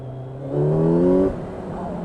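A Kawasaki Z900 motorcycle engine revs up close, the pitch climbing steadily for under a second before dropping back to a low idle rumble.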